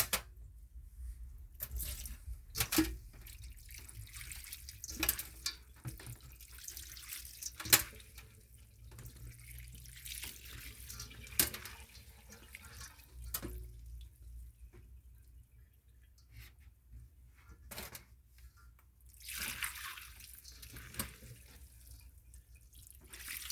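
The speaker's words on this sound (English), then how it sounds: "So I'm just pouring more spring water on here, just making sure we get everything nice and clean." Spring water poured over sea moss to rinse it, an intermittent splashing trickle with drips and brief louder gushes, fairly faint and with no voices.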